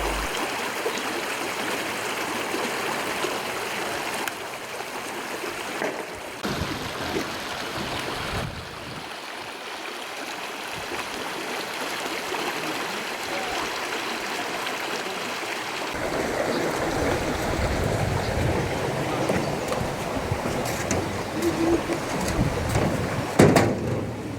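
A river in Butembo flows steadily, a continuous broadband rush and gurgle of moving water that shifts in tone partway through and grows a little louder toward the end, with no speech.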